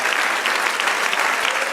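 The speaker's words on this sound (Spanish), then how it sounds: "Dale un aplauso al Señor" Church congregation applauding the Lord, an even, continuous wash of many hands clapping throughout, fairly close and full.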